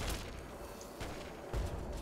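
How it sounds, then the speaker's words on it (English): Dense gunfire from a Fallout 3 firefight, with bursts of shots and booms rolling steadily through two seconds and a heavier blast near the end. "Wow, that's a lot of gunfire."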